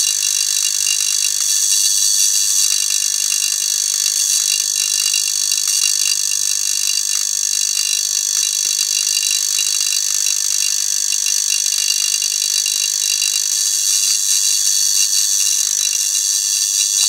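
A spark gap with a capacitor in a partial vacuum fires as a steady, loud, rattling crackle of rapid discharges that holds unbroken from start to finish with no talk.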